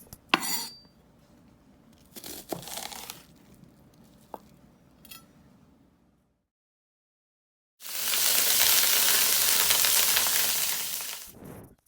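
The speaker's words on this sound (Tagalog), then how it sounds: "Ito yung ribs na pinakulo natin. So pipirituin natin siya hanggang sa maluto siya." Boiled pork ribs hit a hot pan and fry with a loud, broad sizzle that swells after a few faint clinks and a brief silence, holding steady for several seconds before cutting off.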